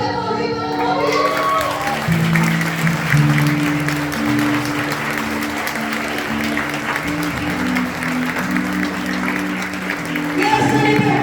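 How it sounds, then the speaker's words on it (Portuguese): Steady audience applause fills a church-style talk, continuing for about ten seconds while a voice and sustained instrumental tones carry on beneath the clapping. "Pode aplaudir, pode aplaudir."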